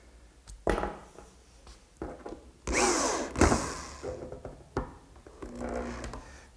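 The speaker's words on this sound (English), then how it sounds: "And I'll drill a hole right at the top edge." A power drill bores a hole through the top edge of a wooden corner cupboard, sounding in several short whirring bursts of varying loudness, close by and with no talk.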